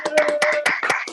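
Close, crisp clapping for poet Dominic Berry at a livestreamed punk poetry event, a quick run of individual handclaps in a rapid, slightly uneven rhythm, with no voices over it.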